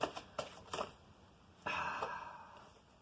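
Tarot cards riffled in a few quick, soft bursts, followed by a longer smoother shuffle of the deck, close and quiet with no talking.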